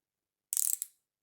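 A wrench turned on a micrometer during calibration, one short close burst of fast ratcheting clicks with a single final click, then silence.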